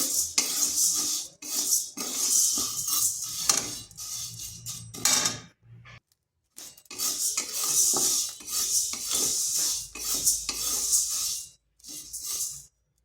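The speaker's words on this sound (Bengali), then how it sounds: "সাবুদানাগুলোকে হালকা একটু ভেজে নেব এটা যাতে সহজে গুঁড়ো হয়ে যায় তা হালকা একটু ভেজে নিচ্ছি" Sago pearls dry-roasted in a pan, a dry scraping and rattling as they are stirred in bursts with short pauses, close and fairly soft, no voices.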